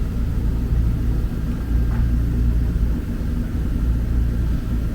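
A 2019 Mazda MX5 ND2 race-prep car creeps slowly onto corner-balance scales, giving a steady, close, low engine rumble that holds evenly throughout with no talking.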